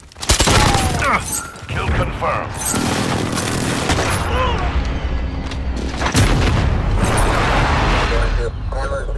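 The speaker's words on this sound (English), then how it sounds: "Precision airstrike on the way." Game explosions from a precision airstrike land with loud booms and bursts of gunfire layered on top, over steady battle noise, with a voice talking over the action.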